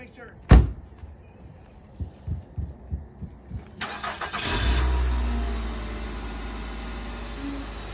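A car door thuds shut, then a few rhythmic knocks lead into the engine cranking and catching, settling into a steady close idle; voices are briefly heard around it.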